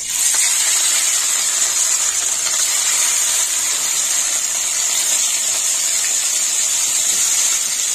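Salted, turmeric-coated snakehead fish sizzling loudly in hot frying oil, a steady dense hiss with crackling spatter running unbroken throughout, close and alone.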